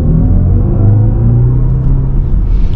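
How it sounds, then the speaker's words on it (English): Loud, close artificial drive sound from a 2023 BMW iX M60i electric car in sport mode, a steady deep synthetic rumble with layered humming tones that swell slightly as it accelerates. "The sound effects in sport mode are definitely a lot louder than any other mode."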